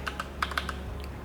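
Someone types a web address on a computer keyboard, giving a quick run of about eight light, crisp keystrokes in an irregular rhythm, close and fairly quiet.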